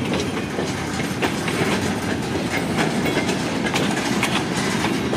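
An empty freight train rolling past at close range, producing a continuous loud rumble with rhythmic clickety-clack of wheels over rail joints throughout, and no voices.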